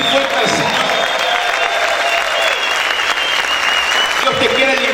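A church congregation clapping loudly and steadily, a dense continuous wash of applause with crowd voices and a held musical tone mixed in throughout.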